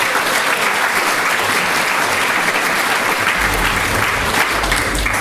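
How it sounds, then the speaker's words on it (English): Loud, sustained applause from a theatre audience at a variety show, a thick, continuous wash of clapping with a faint low rumble underneath. "Round of applause for John!"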